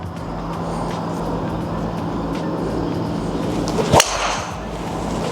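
A Callaway GT golf driver cracks against the ball at full game speed, one sharp, loud impact near the end following quiet ambient hum.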